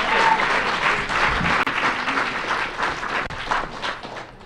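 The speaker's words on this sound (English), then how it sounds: "can we get a big, huge round of applause for Lucasfilm?" A big audience at a Comic-Con Star Wars Rebels panel in a library applauds Lucasfilm with loud, sustained clapping and some cheering that swells and stays strong throughout.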